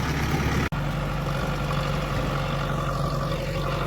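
Tractor engine running steadily, a loud, close, low rumbling idle with a brief dropout near the start.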